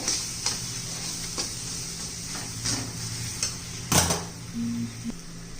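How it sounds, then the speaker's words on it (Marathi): A fresh green pea filling for lachha paratha is stirred in a pan, giving light scraping and occasional clinks of a spoon against the vessel, close by with a faint background hiss. "व्यवस्थित मिक्स करून घेऊया."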